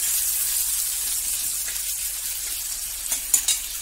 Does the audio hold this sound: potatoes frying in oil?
yes